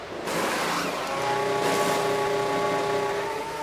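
Race cars in an F1 video game at the Mexico round, engines whining in steady high-pitched layered tones as several cars run together through the whole stretch, loud and close.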